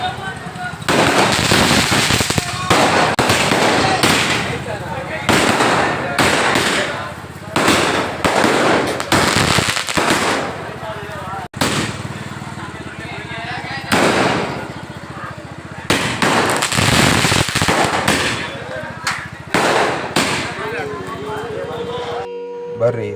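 Firecrackers burst in rapid, crackling volleys at a temple chariot fair in Banahatti, loud and near, with short pauses between bursts and crowd voices underneath.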